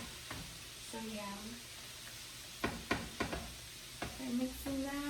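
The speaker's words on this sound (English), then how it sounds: "I'm just gonna mix this cheese in there." A whisk stirs cheese into mac and cheese in a home kitchen, with soft scraping and a few sharp taps against the pot, while a voice speaks at times.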